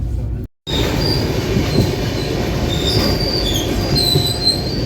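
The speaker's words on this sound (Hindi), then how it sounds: "अभी ट्रेन पूरी तरह कर्व ले रही है" Train wheels squeal steadily as the train rounds a curve, sustained high metallic tones over rumbling rail noise, with a brief dropout near the start.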